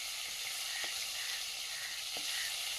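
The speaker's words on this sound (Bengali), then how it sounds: "পাঙাশ ট্যাংরা মাছটাও ভেজে নিচ্ছি।" Pangas tengra fish frying in oil, a steady low sizzle running throughout with a couple of faint stirring taps, no voices.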